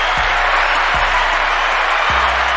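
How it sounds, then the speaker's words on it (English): Steady, dense applause with crowd noise fills the whole stretch, punctuated by a few low thumps, with no voices standing out above it. "Clap it up for Jeezy right there."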